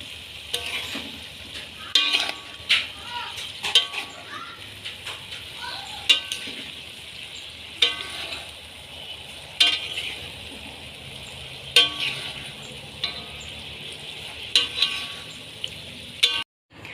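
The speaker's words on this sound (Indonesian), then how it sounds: "Sesekali kita aduk ya teman-teman, supaya tidak gosong." Spicy-sweet stir-fried beef skin and tofu in tauco sauce simmers and sizzles softly in a pan while a spatula stirs at intervals, giving repeated scraping strokes and light clinks against the metal.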